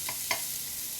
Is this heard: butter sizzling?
yes